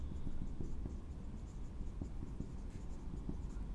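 Quiet, scratchy strokes of writing on a board during a physics optics lecture, coming as short irregular taps and scrapes over a low room hum, with no talking.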